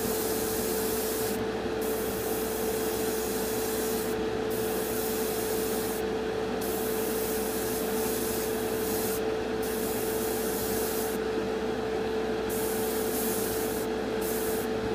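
An airbrush or spray can hisses steadily while paint goes onto a Revell Colonial Viper Mk.II model kit, a continuous close hiss with a fixed tone and short breaks between bursts.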